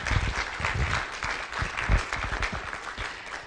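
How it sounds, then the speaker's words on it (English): A seminar audience applauds steadily for a presenter, a dense, even round of clapping from a roomful of people that holds for several seconds before starting to fade. "a huge round of applause for Amanda"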